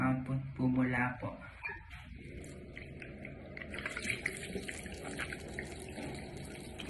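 Tap water runs steadily into a sink onto a bar of soap to work up foam, a continuous close splashing hiss that starts after a short burst of speech and continues alone to the end.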